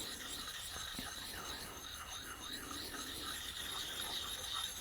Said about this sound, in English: I'm just sharpening this one because it needs sharpening.